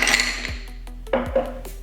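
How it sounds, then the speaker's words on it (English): Ice cubes drop into a cocktail mixing glass with sharp clinks and rattles, one cluster at the start and further knocks about a second later, close and fairly loud. "I'm going to start by adding ice into a mixing glass."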